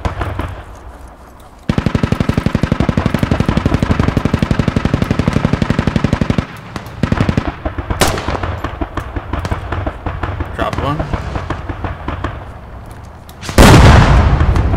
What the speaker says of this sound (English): I'm gonna start shooting them in the back.